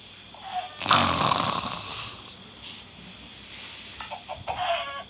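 A chicken in the video game Minecraft clucks and squawks in short bursts, fairly close, with pauses between calls and no talking.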